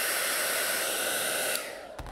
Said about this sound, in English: I'm going to take your hair dryer like we've done with the others.